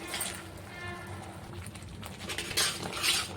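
Gobi manchurian mixture being stirred in a pan, with a steady scraping and clinking of a utensil against metal and a few sharper scrapes near the end, close and moderately loud with no talk.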